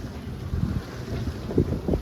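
Wind buffeting the microphone aboard a 24-foot San Juan sailboat at sea, with low rumbling gusts and small waves slapping the hull in a few soft bursts near the end.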